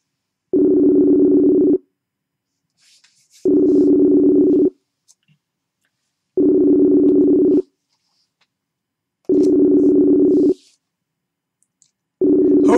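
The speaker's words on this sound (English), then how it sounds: "It's ringing." A phone ringback tone repeats in regular long pulses, five bursts about three seconds apart with silence between, loud and clear with no talking.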